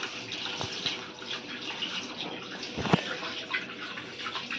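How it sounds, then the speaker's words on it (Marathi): Rice is washed under running water, a soft, continuous splashing and trickling close by with small sloshing bursts, including one sharper splash partway through. "आता तांदूळ धुवून घेऊया"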